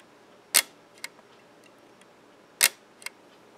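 A vintage Kodak Brownie camera shutter snaps twice, each a sharp, close click followed by a fainter secondary tick about half a second later, in a quiet room with no talking.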